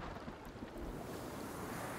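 Steady wind blowing through an outdoor forest in the survival video game Sons of the Forest, a continuous broadband rush with no voices.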